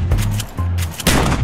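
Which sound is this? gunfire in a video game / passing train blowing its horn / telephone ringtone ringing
gunfire in a video game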